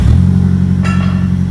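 An Infiniti car engine with newly set injectors starts up, a steady low idle rumble running throughout with a brief brighter burst near the middle as it catches.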